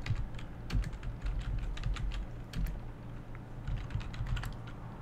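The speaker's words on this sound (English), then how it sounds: "there's a few things that we need to type in to get this fixed" Typing on a computer keyboard to enter commands for a Windows 10 internet fix: quick, close clicks and taps in irregular bursts over a low hum, with no voice.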